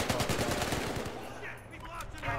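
Sniper rifle gunfire in Battlefield Hardline, mixed into a busy stretch of rapid shots and battle noise that thins out midway before picking up again.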